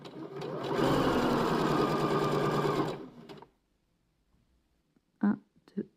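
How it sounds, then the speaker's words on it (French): Sewing machine running straight stitches on fabric at its default setting, a loud steady whirring burst of about two seconds that winds down and stops, followed by quiet and a few brief soft sounds. "Je vais tout simplement prendre mon tissu, coudre quelques points au point droit et voir ce que ça donne."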